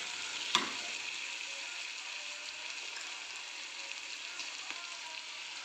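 Broccoli fry in a pan being stirred with garam masala, a soft steady sizzle with one sharp clink at the start and a faint scrape later, quiet and without speech.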